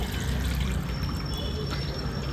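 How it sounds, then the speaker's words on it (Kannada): Red milk poured into a cooking vessel, about a litre, for a ginnu (colostrum pudding) recipe; a steady, close liquid pour with a continuous trickling stream throughout, no talking. "ನಾನು ಒಂದು ಲೀಟ್ರಷ್ಟು ಹಾಕೊಳ್ತಾ ಇದ್ದೀನಿ ಒಂದು ಪಾತ್ರೆಗೆ"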